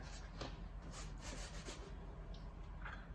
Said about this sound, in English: So I'm just stirring that together.